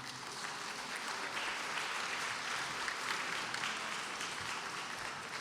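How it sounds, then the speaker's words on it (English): Faint, distant round of applause filling a large assembly hall at an annual people's assembly, an even wash of many hands clapping for several seconds with no talk over it. "Round of applause for them,"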